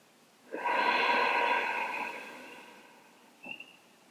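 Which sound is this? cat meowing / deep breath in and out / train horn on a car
deep breath in and out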